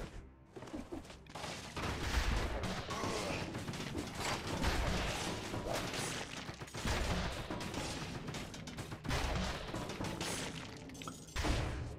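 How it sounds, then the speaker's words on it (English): Exploding barrels hurled down by cannon-wielding enemies in the Dead Cells Stilt Village, giving loud, dense bursts of crashing blasts and shattering debris that recur through the game's busy combat noise, with no talk. "they'll throw the exploding barrels down on you"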